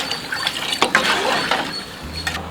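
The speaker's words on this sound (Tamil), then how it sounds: "நல்லா வந்து தண்ணி ஊற்றிக்கலாம்." Water is poured into a cooking pot holding soaked tamarind, producing a close splashing, gurgling pour with a few uneven surges over about two seconds.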